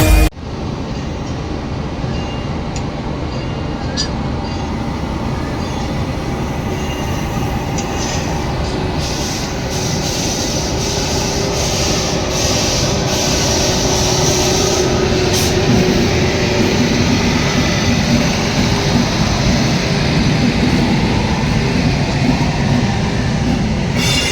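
A passenger train rolls into Jalaram station on the Rajkot to Virpur line, its loud, steady rumble carrying rhythmic clickety-clack and occasional wheel squeal throughout.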